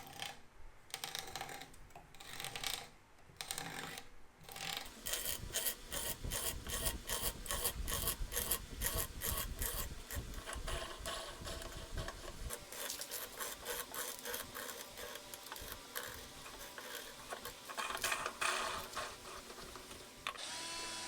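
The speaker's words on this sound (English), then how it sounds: "Cutting these threads is kind of a fun process, and it makes a really unique noise" A threading die works its way along a wooden vise screw for a small twin-screw workbench vise, giving a steady, loud, rhythmic rasping and scraping that goes on with no talking.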